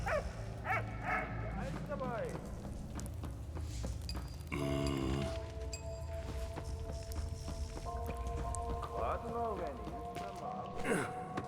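A dog barks repeatedly in the World War I video game Valiant Hearts, sharp yips and barks scattered over game music and ambient effects.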